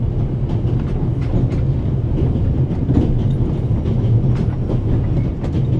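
Steady rumble of a train running on rails in The Raven Remastered, a continuous low drone with faint rhythmic clicking of wheels over track joints, heard from inside the carriage at constant loudness.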